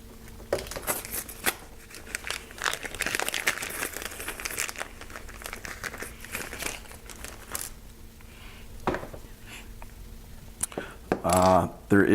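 Wire cutters snip through the cable at a Whirlwind MASS connector socket, producing close crunching and crinkling sounds mixed with handling noise while a person talks over much of it.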